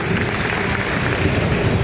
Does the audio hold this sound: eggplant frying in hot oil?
no